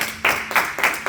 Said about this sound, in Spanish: Si quieres darle un aplauso al Señor,